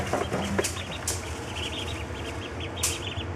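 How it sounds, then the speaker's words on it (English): Young ducklings peep in high, repeated chirps close by, over a busy background of rustling and shuffling. "Obviously, they're little ducklings right now."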